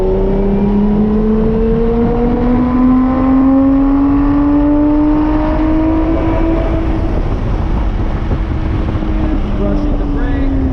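Lotus sports car accelerates hard out of a turn on a track, its engine note rising steadily and loud from inside the cabin, with strong wind buffeting and a voice talking over it.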